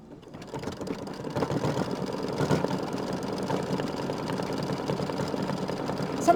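An embroidery machine stitches through a leather quilt block with a steady mechanical hum and rapid, dense needle rhythm that stays fairly loud and continuous throughout.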